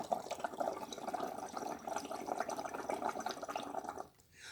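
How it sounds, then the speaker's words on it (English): Bubbles blown through a straw into a container of liquid during a science lesson on matter: a continuous bubbling, gurgling stream lasting about four seconds, then stopping abruptly into near silence. "I'm going to blow bubbles in here because we need to see that gas also takes space."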